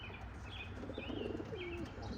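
Racing pigeons coo softly in a loft, a few low rolling coos sounding against faint chirps and a light background hiss, fairly quiet and close.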